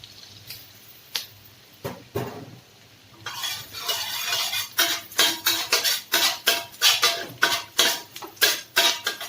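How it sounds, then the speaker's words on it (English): Garlic and small baby chili being stir-fried in a pan, rapid rhythmic scraping and clattering of a spatula against the pan with light sizzling, growing steadier and louder after a few sparse strokes, close and without talk. "Now, garlic and the small baby chili in. Stir fry until the fragrance comes out."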